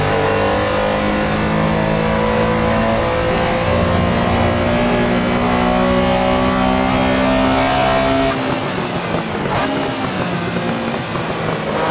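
A Porsche 911 Carrera RSR 3.0 racing at Silverstone GP in Assetto Corsa, its engine roaring loud and steady under load with rising revs, then dropping off sharply near the end before picking up again.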